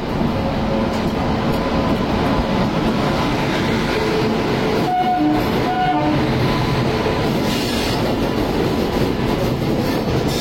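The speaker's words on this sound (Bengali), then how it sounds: "তো ফাইনালি ট্রেন ছাড়লো আগ্রা ফোর্ট থেকে" Howrah Jodhpur Express running after leaving Agra Fort: a loud, continuous rumble of wheels and carriages from on board, with a horn sounding briefly near the middle.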